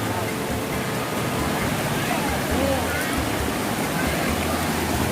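Water rushes steadily nearby, a constant broad hiss of a flowing stream with low rumbling underneath.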